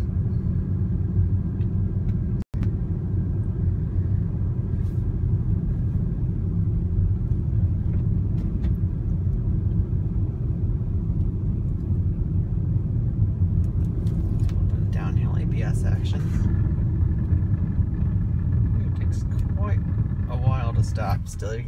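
A heavy 2016 Audi Q5 TDI crawls along a snow-covered dirt road, its steady low engine rumble and tire noise continuous and close, with one sharp knock early on and a voice speaking over it.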